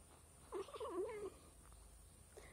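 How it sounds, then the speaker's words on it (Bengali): A pet cat makes a short, close vocal sound in the middle of a quiet moment, a brief rising-and-falling murmur lasting under a second, with nobody speaking. "ও হচ্ছে আমার বিড়াল।"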